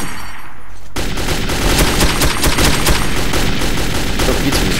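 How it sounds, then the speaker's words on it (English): Machine gun fire in the shooter game Metro 2033: a loud, rapid, continuous burst of gunshots breaks in sharply after a second of quieter ambience and rattles on steadily for about four seconds. "Ooh, this is a nice machine gun."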